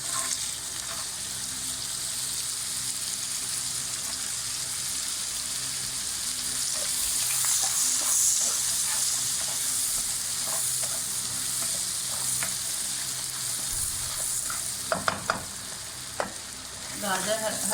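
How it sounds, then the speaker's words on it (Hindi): Grated carrots fry in a hot pan with continuous close sizzling, broken by scraping stirs and a few sharp clinks toward the end, no voices. "गाजर हल्का सा फ्राई हो जाए"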